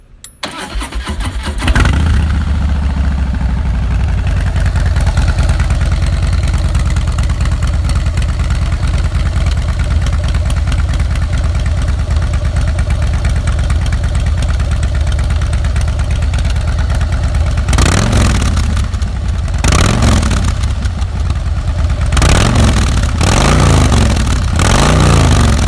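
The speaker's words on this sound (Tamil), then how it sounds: "ஸோ இந்த பைக்கோடைய எக்ஸாஸ்ட் நோட் வந்து எப்படி இருக்குன்றதை நான் உங்களுக்கு காமிக்கிறேன் பாருங்க." Modified Harley-Davidson Fat Boy with an aftermarket air filter fires up, settles into a loud, close, steady idle, then late on takes several sharp revs that rise and fall back to idle.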